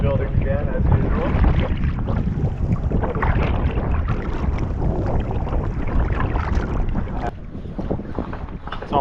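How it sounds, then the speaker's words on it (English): Strong wind blows over an island trail on the Maine coast by a bay near high tide. It rumbles and buffets the microphone in a dense, continuous roar that dips slightly toward the end. "Wind building again as usual."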